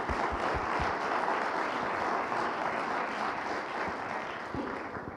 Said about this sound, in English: I'd like to give them a round of applause for putting this together